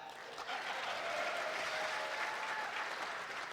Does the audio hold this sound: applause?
yes